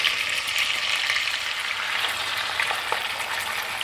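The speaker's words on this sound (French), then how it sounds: "la première étape de la recette consiste à marquer la viande en cuisson sur toutes ses faces" Pork searing in a pan of melted olive oil and butter gives a steady, bright sizzle that crackles continuously and closely throughout, with no voices.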